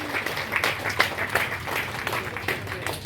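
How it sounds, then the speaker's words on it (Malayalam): An audience at an organisation's stage event claps together in dense, continuous applause. The sound is moderately loud and steady across the whole moment. "നിറഞ്ഞ കൈയടി കൊടുക്കാം"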